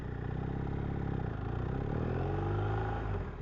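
A BMW R1250R motorcycle with a big black titanium Akrapovic exhaust runs close by, its steady, fairly muted engine rumble swelling slightly as it revs.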